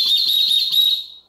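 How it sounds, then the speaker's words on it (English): A Thrunite titanium whistle gives a steady, shrill tone that holds for about a second and then fades out, loud and close with no voices. "First up again is the Thrunite titanium whistle."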